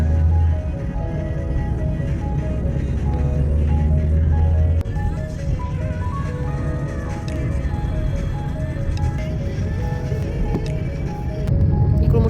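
A car travels along a road in Delhi on a long drive toward Chandigarh, with steady engine and road rumble over a continuous background of traffic noise and horn-like tones.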